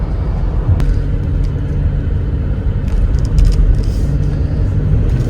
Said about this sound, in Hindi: तो ये आती है सिरोही में एक टनल, जिसको हम अभी क्रॉस कर रहे हैं